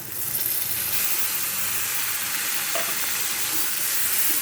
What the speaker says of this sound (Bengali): পেঁয়াজটা খুব সুন্দর করে ভেজে নিতে হবে।